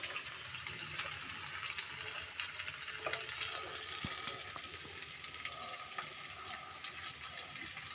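Potatoes, carrots and green peas cooking with turmeric and salt in a pan, a soft continuous sizzle with faint scraping stirs throughout, fairly quiet and without voices.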